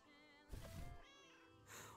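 A cat meows in the video game Lake, two short faint mews over quiet game ambience, with no speech over them.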